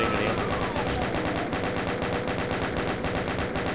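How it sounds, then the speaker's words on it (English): A machine gun fires in the video game Doom 2, a rapid, unbroken rattle of evenly spaced shots, loud and close, alone for the whole stretch with no break in the rhythm. "You got machine gun."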